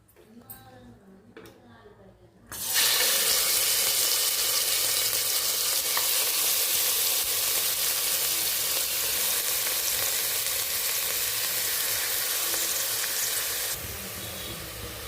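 Goat mutton is dropped into hot oil in a pressure cooker and bursts into a loud, close, continuous sizzle that holds steady for over ten seconds before easing slightly near the end.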